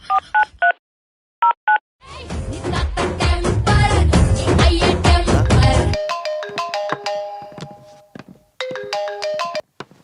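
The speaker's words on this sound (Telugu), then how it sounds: "మా టైగర్ ఫోన్ చేద్దాం" Telephone dialing tones: a few short keypad beeps, then a loud burst of ringtone music, followed by more clipped tone pulses and beeps near the end.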